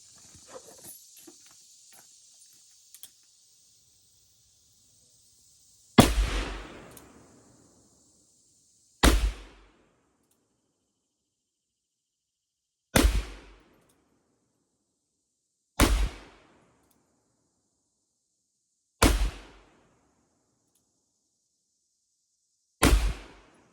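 Six sharp, loud gunshots from a Pietta 1858 Remington black powder revolver at an outdoor range, spaced several seconds apart, each with a short ringing decay, after quiet handling noises.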